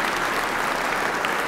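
Steady applause from an audience at a state house ceremony honoring the Coal Queen Pageant Committee, dense continuous clapping held at an even level throughout with no voices over it.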